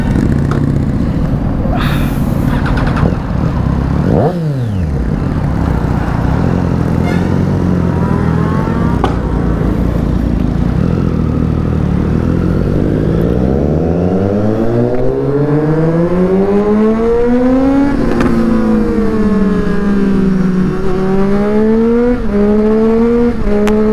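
A Triumph Street Triple and other superbikes ride together, engines revving hard with rising and falling pitch as they accelerate through gears, loud and close over steady wind rush.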